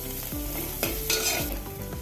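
Chopped thinly sliced big onions with a teaspoon of chili flakes fry in a pan for a broccoli stir-fry, a steady close sizzle broken by several clear scrapes of a spoon stirring through the mix.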